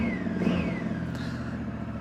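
A 2025 Honda Africa Twin motorcycle with a small aftermarket exhaust revs briefly and then settles, its exhaust note rising and falling with a low rumble, fairly close.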